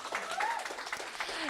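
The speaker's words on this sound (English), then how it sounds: "please, round of applause." An audience at a social inclusion event in Paris breaks into brief, lively applause that overlaps with a speaker's voice throughout.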